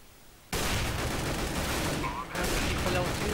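Rapid, dense bursts of gunfire in Counter-Strike: Global Offensive on the de_dust2 map erupt suddenly after a quiet start, continuing nearly nonstop with a brief dip midway.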